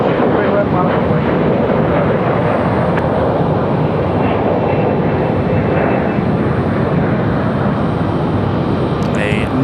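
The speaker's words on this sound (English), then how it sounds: "Nice departure for the United Express" A United Express airliner departs Raleigh Durham with a loud, continuous low engine rumble and rush that holds steady throughout, while voices are also present over the noise.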